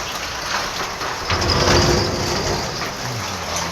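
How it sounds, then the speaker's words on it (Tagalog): Heavy rain pours steadily outdoors during overnight flooding, a dense, constant hiss close by with a faint engine-like rumble underneath, no talking. "Grabe, magdamag ang ulan."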